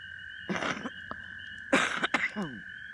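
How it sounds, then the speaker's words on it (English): A few close coughs in short bursts over a steady high-pitched electronic hum. "Excuse me, I still have a cough"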